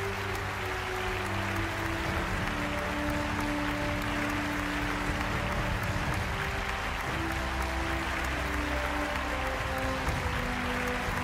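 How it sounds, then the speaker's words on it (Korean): Audience applause fills a hall at a corporate promotion ceremony for a new crown master, a continuous wash of clapping over steady background music with sustained tones. "큰 박수 부탁드리겠습니다."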